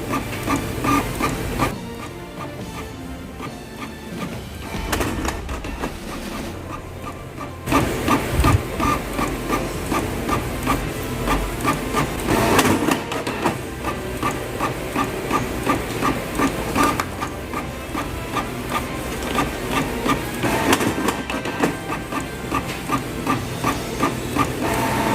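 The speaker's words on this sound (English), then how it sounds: "Printer is already set to print the back pages" Canon G4010 inkjet printer printing the back pages of a booklet, a steady mechanical whir and rhythmic clatter of the feed and print head running continuously and close by, with no talk.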